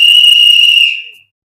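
A loud, shrill sustained whistle blast used as a radio show sound effect holds steady for about a second, then fades out into silence.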